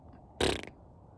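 A voice imitates a fart with a single short, raspy burst that stands out against near silence.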